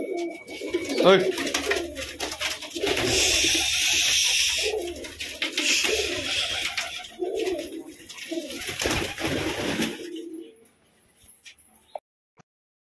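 Male pigeons coo close by in repeated throaty, rolling calls for about ten seconds, with a person briefly speaking over them, before the sound drops to near silence.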